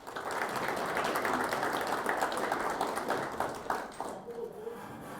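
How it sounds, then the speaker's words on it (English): An audience at a whitetail hunting event in Huntington, West Virginia bursts into sustained applause, dense clapping filling the room for several seconds before tapering off near the end. "Give him a round of applause."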